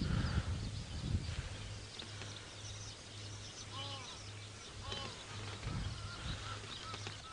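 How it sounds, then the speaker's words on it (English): Egyptian geese honk in short bursts a few times at a distance, over steady wind noise and a low hum. "And also the Egyptian geese are super loud,"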